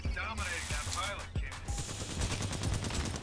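EPG weapon fire in the video game Titanfall 2, with bursts of booming shots and energy blasts amid busy game effects, faint speech mixed in.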